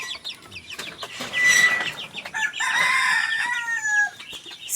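Chickens cluck nearby while a rooster crows loudly, the calls overlapping in a lively farmyard chorus with no talking.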